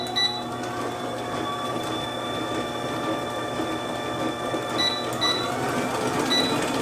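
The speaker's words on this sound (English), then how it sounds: "we're going to mix those together for another 5 minutes" A stand mixer beats cookie dough of eggs and vanilla on slow speed, giving a steady mechanical whir with a faint gear rattle that keeps an even level throughout.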